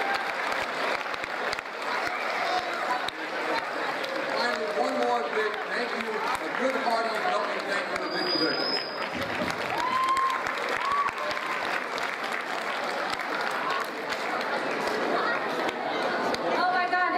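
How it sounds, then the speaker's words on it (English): Student audience at a Nutley High School assembly giving sustained applause mixed with crowd chatter and a few cheers, steady and moderately distant from start to finish. "Let's give Nutley High School a big round of applause."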